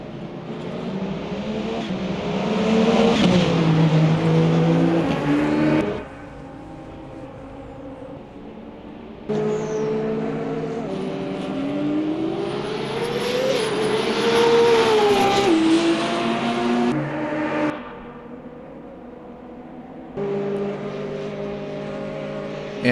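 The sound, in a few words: LMP2 race car engine in Le Mans Ultimate video game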